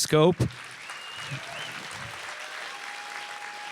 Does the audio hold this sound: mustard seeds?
no